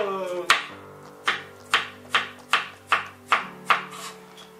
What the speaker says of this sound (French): Donc là je coupe grosso modo